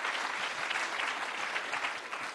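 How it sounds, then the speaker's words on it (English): A conference audience gives a panel of distinguished speakers a warm round of applause, with steady dense clapping throughout that fades slightly at the end. "asking everybody to give a warm applause to our distinguished panel"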